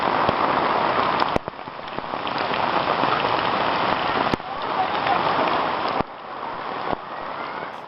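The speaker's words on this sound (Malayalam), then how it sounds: "കനത്ത മഴയോടൊപ്പം ശക്തമായ കാറ്റുമുണ്ടായി തൊട്ടുപിന്നാലെ ആകാശത്തു നിന്ന് ആലിപ്പുഴ വർഷവും" Heavy rain with hail and strong wind in Manappuzha, Kerala, a dense loud pelting roar on surfaces, steady with a few abrupt cuts and sharp clicks from striking ice.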